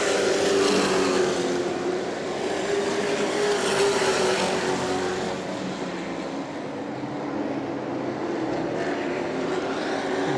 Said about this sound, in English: that 93 truck doesn't sound too good as it comes by